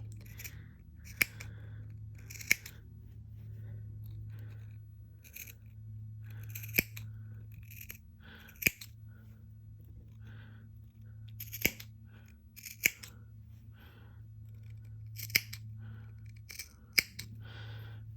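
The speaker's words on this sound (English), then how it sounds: "I'm clipping right close, but not through the stitching line" Scissors snip the fabric seam allowance of a two-piece shirt collar, close to but not through the stitching line, giving about a dozen sharp, separate clicks at an uneven pace over a low steady hum.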